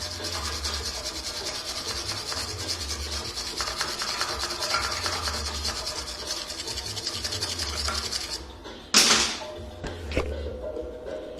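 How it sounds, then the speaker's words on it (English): Steady abrasive grinding on a Range Rover P38 bumper runs continuously for about eight seconds at close range, then stops abruptly and leaves a few short scraping touches. "I'm gonna grind it back"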